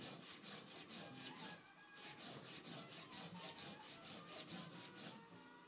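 A knife blade stroked back and forth on an Atoma diamond sharpening plate, giving a steady run of close, rhythmic gritty rasps with a short pause partway through, and no voices.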